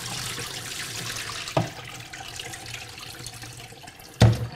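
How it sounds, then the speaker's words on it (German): Water is poured off soaked soy mince in a kitchen sink, a continuous running-water wash with two sharper splashes, the last one loud near the end. "dann einmal hier abgießen das Wasser"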